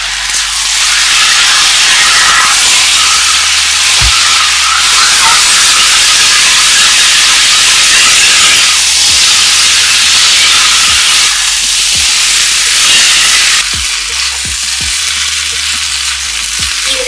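Prawn noodles stir-frying in a hot pan hiss with a loud, continuous sizzle and steam, close up, broken by occasional knocks of a spatula against the pan, with no talking.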